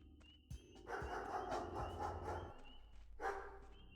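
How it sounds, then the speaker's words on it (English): Dog barking in the video game Pathologic, a few faint distant barks and yips spread across the moment over quiet ambient sound. "I heard that the dog is hard to encounter, but I sure am hearing a lot of barking."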